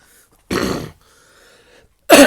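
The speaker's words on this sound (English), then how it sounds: "Got a cough, don't like it." Two short, harsh coughs, each a broadband burst, separated by about a second of near silence; close and fairly loud.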